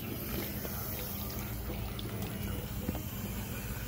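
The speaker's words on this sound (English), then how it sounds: "Now I'm going to rinse." Water running steadily while a bathroom is rinsed, a continuous close hiss and splash like a tap or sprayer, with no breaks and a soft murmur of talk faintly underneath.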